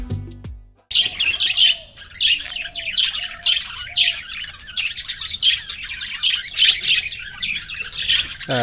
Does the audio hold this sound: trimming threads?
no